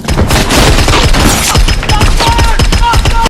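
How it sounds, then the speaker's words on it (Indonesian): A gunfight between robbers and police in a film scene, with dense rapid bursts of loud gunshots firing close together nonstop, crackling and booming over a constant wash of noise. "Baku tembak kembali terjadi."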